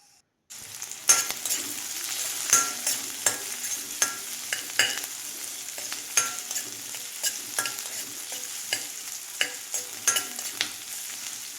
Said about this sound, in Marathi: इथं मी कढईत दोन चमचे तेल टाकलं आहे आता यात कांदा टाकते भाजायला